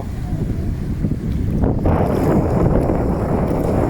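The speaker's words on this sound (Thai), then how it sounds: "ลมแรงมากเลย" Strong wind on a beach at Hua Hin buffets the microphone in a constant heavy roar, with surf faintly mixed beneath it and no one talking.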